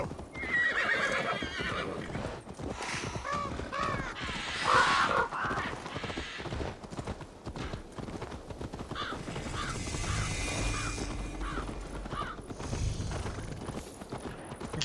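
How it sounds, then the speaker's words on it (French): A horse gallops in the video game Assassin's Creed Valhalla, with steady hoofbeats, a whinny and crow calls over game music and ambience, continuing throughout without talk. "Oh, mon cheval est trop rapide là."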